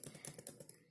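Rapid keystrokes on a computer keyboard while entering a button name in App Inventor 2, a quick close burst of light clicks lasting about a second, no speech.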